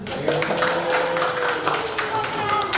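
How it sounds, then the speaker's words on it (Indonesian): An audience claps at a school presentation, with moderate applause under a voice that talks over it and a faint background hum. "Tepuk tangan."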